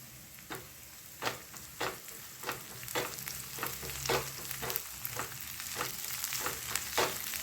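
Crushed green chili, garlic and ginger sauté in hot oil with a steady sizzle, broken by regular scraping strokes of a spatula stirring them in the pan.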